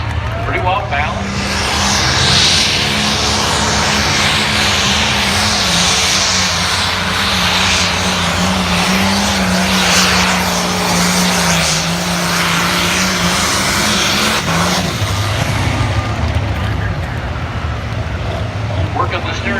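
The limited pro stock pulling tractor The Remedy makes a tractor pull pass at Tomah in 2018, its engine a loud, sustained, strained roar for nearly twenty seconds while a voice talks over it.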